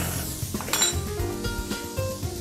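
Food is stirred constantly in a hot frying pan, with a utensil scraping and clinking against the metal in quick repeated strokes over a soft sizzle, close and fairly loud, with no talk.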